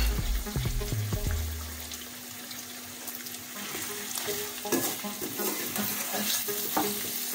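Tomatoes and green chili stirred into mutton biryani masala in a pan, a steady close sizzle with scraping stirs and some watery splashing, continuous and fairly loud, no voices.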